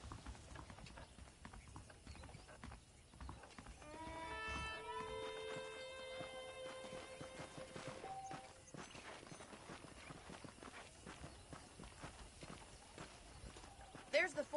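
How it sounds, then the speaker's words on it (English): Horses clip-clopping in the video game Red Dead Redemption, steady hoofbeats under game voices, with a brief musical or tonal passage midway. "The horses are saddled up over here."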